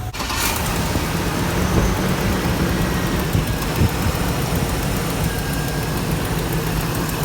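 A 6.0 V8 truck engine idles steadily with a low, even rumble and a slight rough edge from a small exhaust leak, running on its own with no talking.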